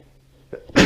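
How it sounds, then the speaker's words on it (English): A single short, sharp sneeze bursts out near the end, close and fairly loud, after a moment of near quiet. "damn it, as I sneeze"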